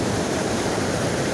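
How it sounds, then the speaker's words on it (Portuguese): Water rushing over and under rocks at a waterfall, a dense, steady broadband roar that stays constant and close throughout with no voices. "A água passa debaixo da pedra aqui, ó."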